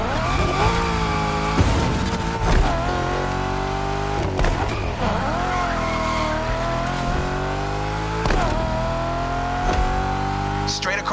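A car drives fast straight across a roundabout, its engine revving hard and rising and falling through gear changes, with tires squealing, loud and close, and a voice talking intermittently over it.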